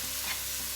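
Mushroom and onion frying in a pan, a brief close crackling sizzle with a faint stir.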